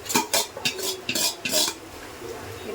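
A spoon stirs lentils into a pot of pumpkin and drumstick sambar, giving a run of close metallic scrapes and clinks against the pot that fade into a soft, low simmer.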